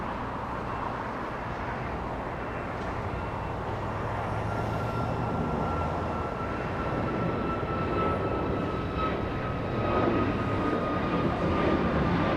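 A United Airlines airliner arriving from Chicago at Los Angeles International Airport, a broad steady jet roar with a faint whine, loud and continuous throughout without breaks.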